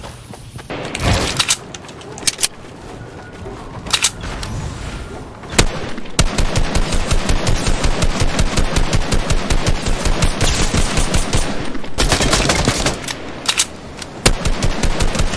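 Automatic gunfire in Fortnite, loud rapid bursts of shots in rhythmic strings broken by short gaps and single sharp reports, with a brief spoken remark near the start.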